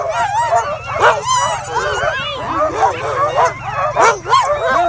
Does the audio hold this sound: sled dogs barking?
yes